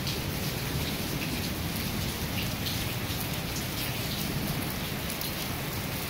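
Heavy rain falls during a thunderstorm in Qatar, a dense, steady roar of drops on surfaces throughout, close and unbroken, with no voices.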